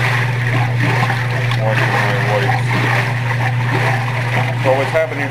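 A Whirlpool 95405 washing machine with a freshly replaced drive belt churns a load of white clothes, water sloshing and thumping rhythmically over a steady low motor hum, loud and close.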